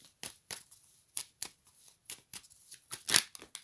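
Oracle cards shuffled for an astrological card draw, a run of quick papery riffles and slaps in a steady rhythm, close and crisp, with one louder burst near the end and no voice.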